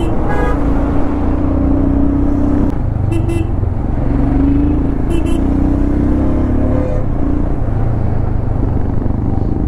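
A vehicle's engine hums steadily on the road during a backwater camping trip, with a constant loud rumble and several short honks of a horn scattered through it.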